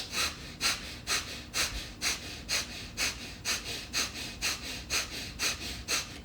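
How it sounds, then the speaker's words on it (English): Rapid yogic breath-of-fire breathing, a steady train of about fourteen sharp, forceful nasal exhalations in even rhythm, close and fairly loud with no talking. "Breath of fire."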